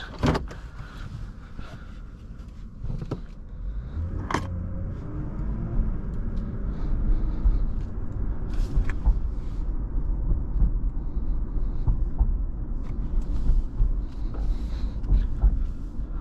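A 2015 Lexus IS 250 F Sport driving, its low engine and road rumble steady throughout, with a few clicks and a brief mechanical whir early on.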